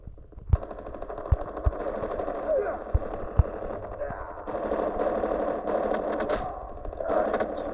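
Gunfire in Call of Duty Mobile: a few sharp single shots early on, then bursts of automatic fire under a constant hum of in-game ambience, with a voice talking faintly at times.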